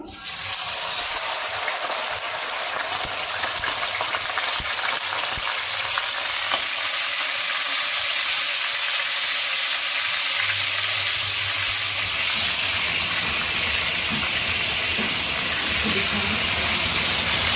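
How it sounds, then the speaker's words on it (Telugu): Potatoes frying in hot oil make a loud, dense, continuous sizzle with fine crackling that holds steady for the whole stretch, heard close up with no talking. "ఇప్పుడు ముందుగా ఆయిల్లో మనము ఈ బంగాళదుంపల్ని వేసుకుందాము."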